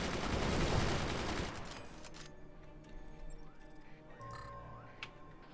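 Missiles firing and exploding in the video game Forts, a loud rumbling barrage of blasts fading into scattered crackles and game effects, with a brief tonal sound near the end.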